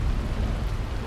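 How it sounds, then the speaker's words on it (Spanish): A low, rumbling roar of thunder with the wash of rain from a sudden storm at sea in a pirate audio drama, loud and dense throughout the short moment, no voices. "un trueno resonó"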